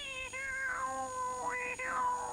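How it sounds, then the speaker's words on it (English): A ship's cat meows twice, each call a drawn-out, rising-then-falling cry, heard up close and clear against a quiet hum. "And lastly, the ship's cat, which by lucky coincidence I carried with me."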